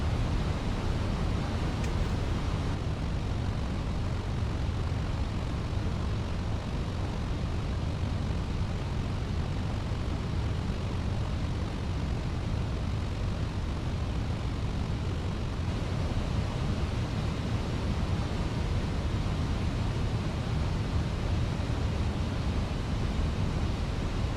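A simulated airliner on approach to St. Petersburg in Microsoft Flight Simulator gives off a steady, broadband engine and airflow roar that holds at an even level throughout, with no voices.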